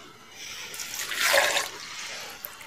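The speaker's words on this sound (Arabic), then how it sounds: "ونجيب كوب لبن خالي الدسم ونحطه فيها." Skim milk poured into a blender jug over small cucumber slices, a soft liquid splash that swells for about a second and then tapers away. It is quiet and close, with no voices.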